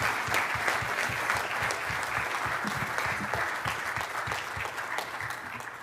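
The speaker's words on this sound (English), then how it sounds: "Please give General King a big round of applause" Conference audience gives a round of applause, steady dense clapping from a large crowd heard at a moderate, even level throughout, without talk on top.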